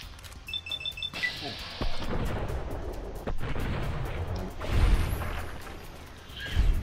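Grenade explosions in the video game Fallout 3 thud and boom over a steady rumble of gunfire and combat noise, with heavier blasts landing midway and at the end, while a voice talks.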